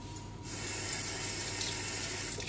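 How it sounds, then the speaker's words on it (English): Chopped carrots are rinsed under a kitchen tap, and the water runs in a steady, even hiss with no talk over it. "So I'm just going to give these a quick rinse."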